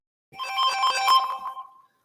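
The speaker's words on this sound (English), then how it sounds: "I'm getting phone calls." A phone ringtone plays once as a sustained, melodic electronic tone lasting about a second and a half, fairly close and clear with no talking over it.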